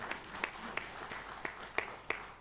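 Sparse, scattered clapping from a church congregation during a Sunday worship service, a handful of sharp claps spread unevenly over a couple of seconds with no talking.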